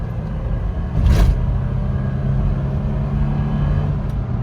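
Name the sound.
3rd gen Toyota 4Runner accelerating on new tires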